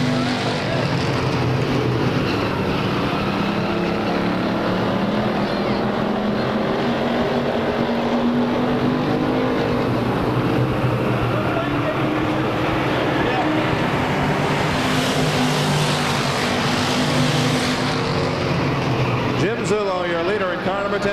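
Race cars lap Claremont Speedway at a weekly short-track race, a loud, continuous roar of engines that swells as the pack passes close, with an announcer talking over the noise throughout.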